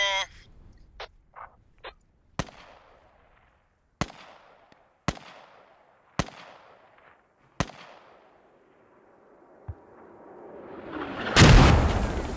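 Mortar rounds in a military video game thump one after another as sharp, spaced booms with decaying tails, some distant, followed by a louder rushing blast near the end, with no talk.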